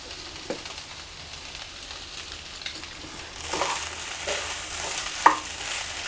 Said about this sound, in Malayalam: എന്നിട്ട് എല്ലാം കൂടി അങ്ങ് കൂട്ടി ഇളക്കി കൊടുക്കാം